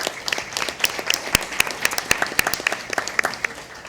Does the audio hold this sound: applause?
yes